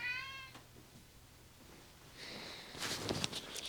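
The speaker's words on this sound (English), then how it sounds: "The cats are very hungry because their feeder is about to go off for lunch" A cat gives a short meow, then after a quiet pause another meows more insistently, faint and close by.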